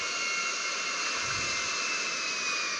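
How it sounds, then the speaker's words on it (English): An airplane's jet engine in GTA V roars with a steady, loud whine and broad rushing noise that holds without a break from start to finish. "And I've just landed the plane, put it on the concrete landing area here"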